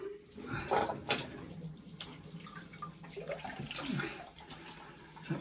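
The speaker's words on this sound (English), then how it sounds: "Let me just get a rinse." Running water rinses a razor during a wet shave, splashing and trickling close by with intermittent clinks and taps against a basin.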